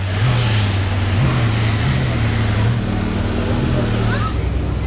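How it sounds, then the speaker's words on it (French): An Audi RS7 roars past on a busy street near a casino square, a loud low engine drone with revving surges, steady and close throughout the clip. "Elle est violente cette RS7, waouh"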